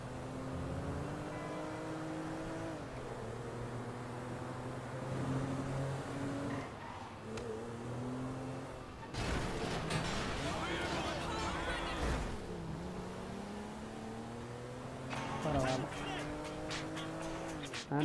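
Car engine revving and tires squealing while driving in the video game GTA 5, steady engine drone with pitch shifts and bursts of skidding, heard alone throughout.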